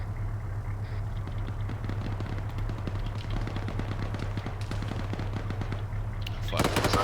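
Rapid bursts of automatic gunfire in Arma 3 crackle steadily over a low engine drone throughout, with a louder, brighter burst of nearby fire near the end.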